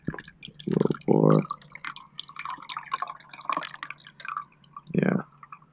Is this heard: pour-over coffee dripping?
yes